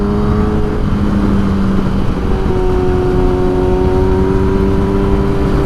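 A 2017 Kawasaki ZX10R sport motorcycle accelerating at full throttle, its engine a steady loud drone with rising harmonic tones throughout, close and continuous with no talking.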